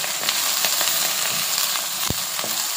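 Sliced okra sizzles and fries in a hot pan, giving a steady, close crackling hiss broken by a few sharp pops.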